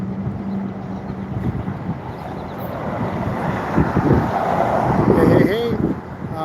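Strong wind buffets the microphone outdoors on a city street in Phoenix, a constant low rumble that swells and gusts harder toward the end.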